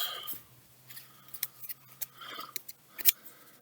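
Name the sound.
shuffling and cutting a tarot deck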